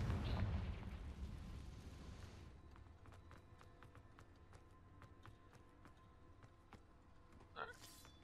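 A Confringo blasting spell goes off in the video game Hogwarts Legacy, a loud burst at the start that trails into a rumbling decay, followed by scattered clicks and a small pop near the end.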